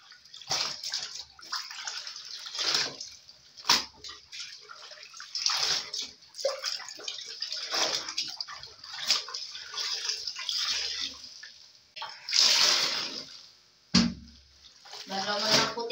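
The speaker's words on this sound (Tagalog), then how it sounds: "naka-on din yun kasi yung gripo. Tubig." Water runs steadily from a tap during hand laundry, a continuous splashing rush with brief louder surges, while a voice talks intermittently over it.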